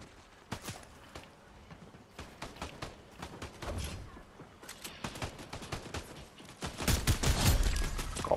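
Turrets firing in the Fortnite video game, rapid bursts of gunfire at moderate distance that grow louder and denser toward the end.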